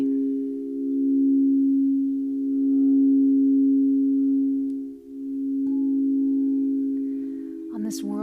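Crystal singing bowls sustain a pure, steady ringing tone that gently swells and fades, ending with a brief bright strike or clink.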